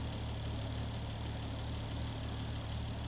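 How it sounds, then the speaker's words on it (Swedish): A BMW 520 with a 1990 cc six-cylinder engine of 129 horsepower idles in a steady, even drone that holds unchanged throughout, close and continuous with no talk. "Den sexcylindriga motorn i 520 är på 1990 kubik och ger 129 hästar."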